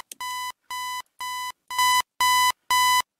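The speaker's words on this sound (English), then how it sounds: "Alarm clock's going off." An alarm clock rings in a video game: six evenly spaced, loud electronic beep bursts with short silent gaps between them, heard alone.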